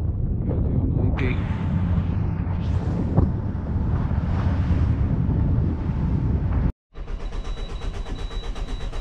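Strong wind buffets the microphone over rushing ocean waves on the Celtic Sea at sea, loud and continuous, with a brief cutout near the end.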